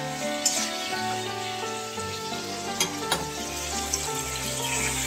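Pointed gourd sizzles and spatters steadily as it fries in oil in a home kitchen pan, with a few sharper crackles and utensil clinks over the continuous hiss.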